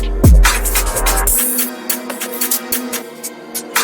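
UK drill drum fill from the Redemption Drumfill kit: a gliding 808 bass hit gives way to quick rolling hi-hats and sharp snares in a syncopated burst, loud and dry with no voices.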